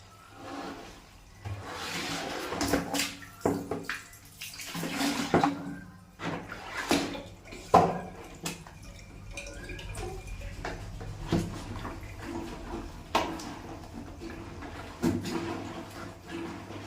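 Clothes are hand-washed in water nearby, with irregular sloshing, splashing and wet rubbing as fabric is scrubbed and lifted, in uneven bursts over a soft watery background.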